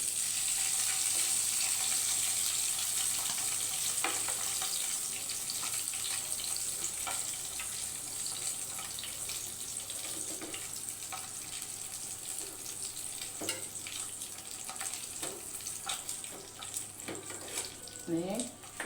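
Fish frying in hot oil for a fish curry, a steady close sizzle and crackle running throughout with a few sharper pops and spits, with faint running water near the end.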